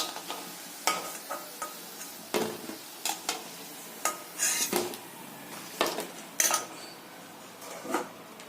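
Raw banana koftas frying in a pan in a home kitchen, a faint sizzle broken by repeated sharp clinks and scrapes of a utensil against the pan at irregular intervals.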